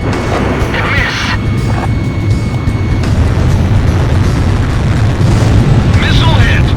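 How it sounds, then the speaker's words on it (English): Missile explosions ring out in the jet combat game Ace Combat Zero, heavy booms over a constant roar of engine noise, with brief bright bursts near the start and again toward the end. "Missile hit."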